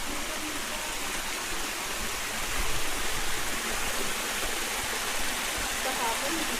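A stream at a riverside campsite in Real, Quezon rushes in a constant, broad hiss of flowing water, loud and steady, swelling slightly midway.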